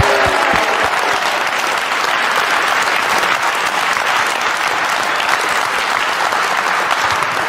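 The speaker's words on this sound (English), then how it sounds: "Please, can you give Shane a round of applause?" A loud, dense ovation from the crowd at a World Pool Masters final, honoring Shane Van Boening, with continuous clapping filling the whole stretch.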